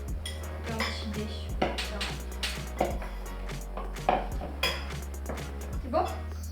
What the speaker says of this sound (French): Je coupe un petit peu les pommes. Un petit dé.